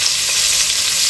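Garlic frying in hot oil while it browns gives a loud, steady hiss that stays unbroken for the whole moment, with no voices.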